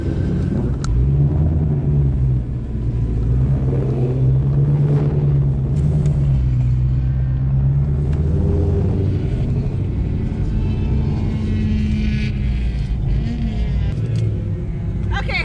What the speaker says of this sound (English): Okay guys, here we go, on track with the 2020 GT500.